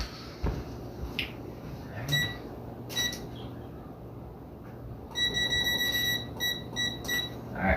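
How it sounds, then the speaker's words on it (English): A kitchen timer beeps in short electronic bursts while being set for an apple pie in the oven, the tones arriving in quick clusters over a background hum with scattered handling noise. "Get my timer set."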